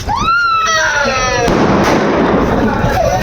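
Firecrackers set off outdoors to celebrate India's victory, with a loud continuous crackle and bursts filling the scene while a whistling rocket-like tone rises at the start.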